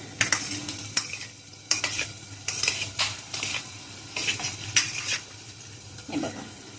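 Tomato rice with turmeric and salt stirred in a pan, giving a string of distinct spoon scrapes and clinks against the metal over a low sizzle, loud and close, with no talk.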